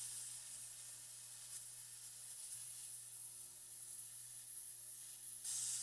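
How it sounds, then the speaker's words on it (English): An ultrasonic cleaner runs with small electronic preamp parts in its screen basket, giving a steady, even hiss with a faint low hum that holds constant throughout and then thins near the end. "First, I'm going to turn on the ultrasonic cleaner"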